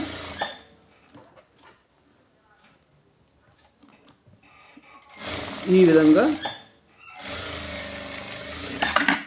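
A sewing machine stitching a shirt's front placket runs in two bursts, a steady rapid whirring hum, close and clear, separated by quieter handling sounds, with a person speaking at times.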